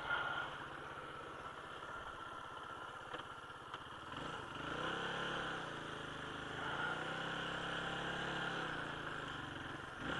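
Suzuki DR350SE motorcycle on snow and ice, a low engine idle with a fast pulsing putter that rises into a revving swell and settles again, moderately close, no speech.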